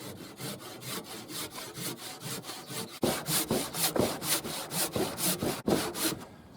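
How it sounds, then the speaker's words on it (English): A handsaw cuts through a timber roof hip rafter with steady, rhythmic back-and-forth strokes, close and clear, growing louder and sharper partway through the long cut. "get the handsaw out, cut that"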